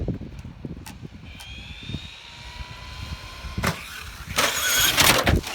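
A Traxxas Slash 4x4 VXL electric RC truck accelerates with a rising high-pitched motor whine, alongside scattered thumps and tire noise nearby, ending in louder bursts of rough crunching as it lands or drives.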